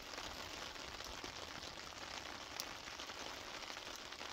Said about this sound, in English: when you're under a tarp in the rain, it doesn't matter.